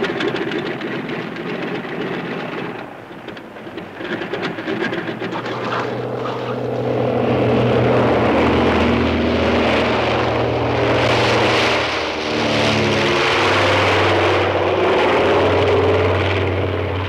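A propeller airplane taking off in 1960s footage, a steady droning engine that swells louder and holds a rising, throbbing roar as it gets airborne, continuous and close.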